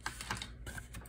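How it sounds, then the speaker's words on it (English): Scissors trim scrappy paper edges from a handmade autumn junk journal cover, giving a close, steady run of quick, crisp snips and rustles with no talking. "I'm just gonna take my scissors and trim off those scrappy bits"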